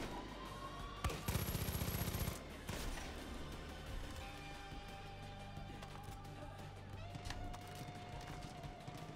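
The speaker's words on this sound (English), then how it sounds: "See what I mean by it's really satisfying, the shooting in this game?" Bursts of gunfire from the video game Far Cry 5 crackle in a rapid volley, then give way to scattered game sounds and a steady background mix.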